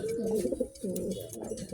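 A Morris Gordon racing pigeon coos softly up close, a short run of low throaty warbling notes with a brief pause between phrases, faint against a quiet loft background.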